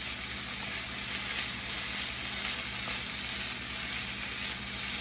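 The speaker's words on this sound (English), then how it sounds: "I'm going to let the onion saute for just a couple of minutes." Chopped onion sautés in a pan with rice, giving a steady, loud sizzle that holds evenly throughout with no voices.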